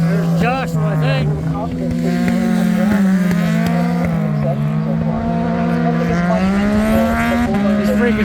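600cc supersport racing motorcycles at a MotoAmerica road course qualifying session, engines droning loud and continuous with steady high-revving tone shifting pitch as bikes pass, under someone talking throughout.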